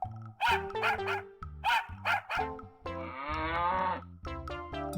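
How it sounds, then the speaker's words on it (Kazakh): A young puppy barks angrily at a cow, firing off rapid, sharp yapping barks in quick bursts, then a long drawn-out whining howl, then more barks, all close and loud. "Арлан қатты ашуланғаны сонша шабалана үріп сиырға тап"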